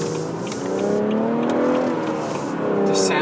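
A 2016 BMW 340i engine revving in sport mode while cornering, a strong, steady drone that rises and falls in pitch and stays loud and close throughout.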